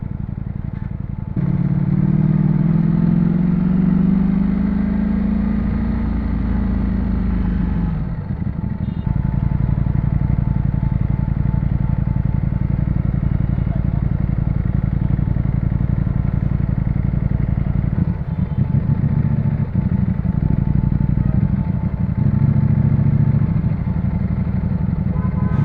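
A Ducati V4 motorcycle idles in city traffic with a loud, continuous low engine rumble, one rising and falling rev near the start and a few later throttle blips, the sound close and steady.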